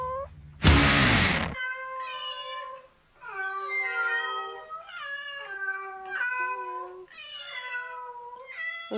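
A cat meows repeatedly in a run of drawn-out, wavering cries, close and clear, with a brief burst of noise just before the calls begin.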